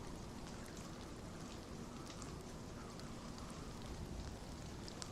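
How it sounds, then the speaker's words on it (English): Steady rain in the video game We Happy Few hisses continuously with scattered raindrop patter, an even wash of sound throughout with no voices. "Looks like Rain."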